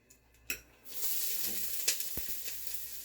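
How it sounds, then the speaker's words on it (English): Onions dropped into hot oil in a pot burst into a loud, steady sizzle after a couple of clinks, holding a bright hiss with small pops and a few utensil taps. "We're going to put some oil in it and get the onions on to start"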